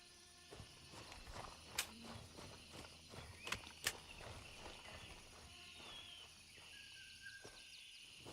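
Soft footsteps in the video game Gray Zone Warfare come as a few faint, scattered steps over quiet ambient noise with insects and distant sounds, and no talking.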